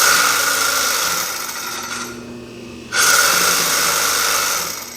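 Consew 206RB5 industrial sewing machine on an old-fashioned clutch-style motor running with a harsh, grating metallic noise, steady and close, briefly dropping away midway before resuming at full loudness.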